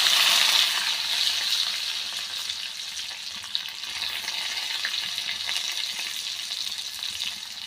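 Garlic cloves frying in hot oil with mustard seeds and cumin for a tempering, a steady bright sizzle that starts loud and settles into a constant crackling hiss.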